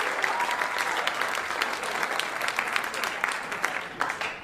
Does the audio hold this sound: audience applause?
yes